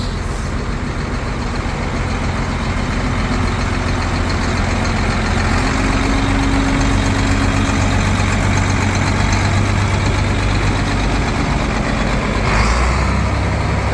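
A Sino Howo 8x4 water truck, a 40,000-liter tanker, idles steadily nearby with a deep, continuous diesel rumble that holds at an even level for the whole stretch, with no talking.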